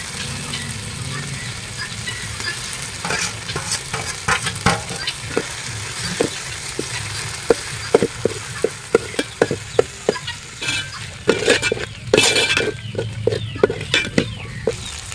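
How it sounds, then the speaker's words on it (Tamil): Ground shallots sizzling in a pan while a utensil stirs and scrapes, with steady frying hiss and a series of sharp clinks and scrapes that grow busier toward the end. "அரைச்ச சின்ன வெங்காயத்தை சேர்த்துப்போம்."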